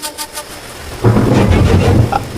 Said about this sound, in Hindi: बाहर तो बारिश अचानक शुरू हो गई